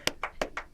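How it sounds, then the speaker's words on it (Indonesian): A few sharp, separate hand claps sound close by in a short burst, about five crisp slaps in an uneven rhythm, with no talk over them. "Semua tepuk tangan, kamu juga Cak tepuk tangan."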